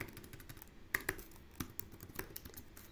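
Code being typed on a computer keyboard: a sparse, uneven run of close key clicks with a few sharper taps and no talking.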